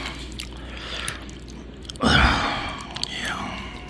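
Close, crunchy chewing of Hamburger Helper topped with Cheetos and cheese, soft mouth sounds building to a louder bite and crunch midway, with faint breathy noise around it.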